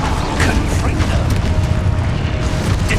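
A Confringo blasting spell explodes in the Hogwarts Legacy video game, a dense, loud rumbling boom with crackling debris sustained throughout, while spell names are called out over it.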